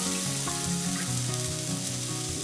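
Sliced onion and ginger sizzle in a hot pan, a steady, loud, close crackle that runs unbroken throughout with light pan movement underneath.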